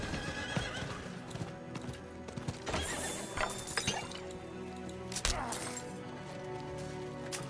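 Hooves clip-clop steadily while a horse neighs loudly in the video game Diablo 4, with occasional clinks and a voice speaking over the busy game soundscape.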